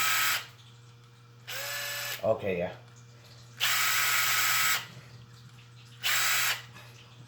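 A Makita LXT brushless subcompact impact driver runs free in three bursts, each a second or so of bright, steady whirring close by, with a short spoken comment between them.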